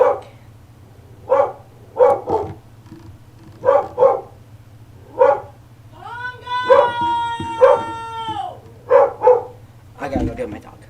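A dog barks in short repeated bursts, then lets out a long rising howl midway before barking again, loud and close indoors over a low steady hum.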